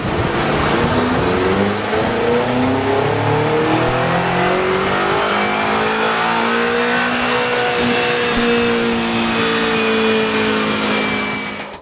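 A BMW M5 twin-turbo V8 revs hard on a rolling road dyno with the front wheels spinning, its engine note climbing and holding loud and close for the full stretch, broad roaring harmonics sweeping steadily upward without pause.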